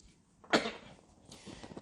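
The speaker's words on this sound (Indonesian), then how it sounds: "bentar batuk dulu ya." A single sharp cough from a pastor during a sermon, close and fairly loud, followed by a faint throat sound.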